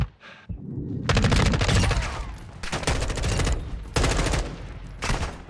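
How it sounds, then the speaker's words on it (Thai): Gunfire erupts in Call of Duty DMZ, with dense bursts of rapid automatic shots close and loud, broken by brief pauses and continuing throughout, over a low rumble of game ambience. "ใครยิงมาวะ"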